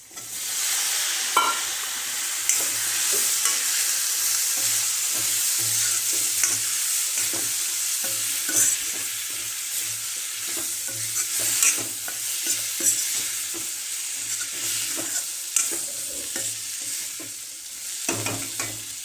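Potato pieces stirred in a hot iron kadai for a village-style potato amti, a continuous close sizzle broken by repeated spoon scrapes and knocks against the metal, with no talking.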